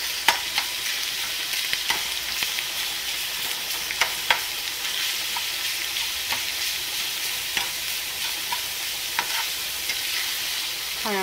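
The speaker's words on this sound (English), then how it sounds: "I'm going to do a little stir there." A seasoned cabbage roll mixture being stirred in a pan, with a steady frying sizzle under repeated scraping strokes of a utensil at irregular intervals, close and moderately loud, with no talking.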